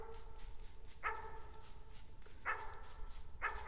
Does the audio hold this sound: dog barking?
yes